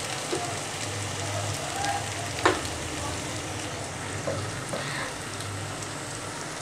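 Fish head and spices fry in a pan, giving a dense, rain-like sizzle throughout with a few sharp spatters and the occasional scrape of stirring.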